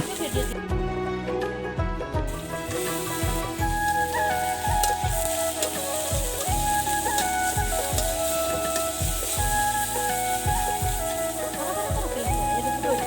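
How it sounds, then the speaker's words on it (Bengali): Chopped onion, green chili and ginger fried in a wok while making Bangladeshi fried rice, with a crackling sizzle heard alongside rhythmic low thumps and bright tonal background sounds. "এখন একই কড়াইতে পেঁয়াজ কুচি কাঁচামরিচ কুচি আদা কুচি দিয়ে ভালো করে ভাজুন"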